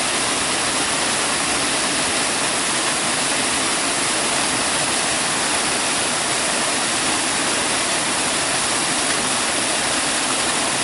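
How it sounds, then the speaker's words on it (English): A waterfall dropping straight down and striking rocks on the way, splashing at its base; a loud, steady broadband roar of rushing water fills the whole stretch without pause, no voices. "Straight down, hitting a few rocks on the way down. Give you a little splash at the bottom"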